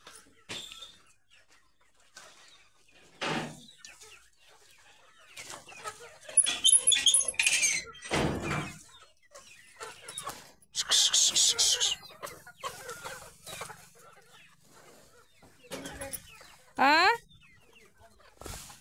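Hens cluck and squawk in scattered bursts at varying distances on a goat farm at night, with quieter stretches between and occasional people talking in the background.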